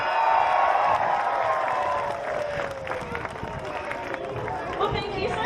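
A zoo seal show audience at Taronga Zoo Sydney claps, cheers and shouts together, a loud, dense crowd roar that is strongest at the start and then holds at a steady, slightly lower level, with a voice carrying over it.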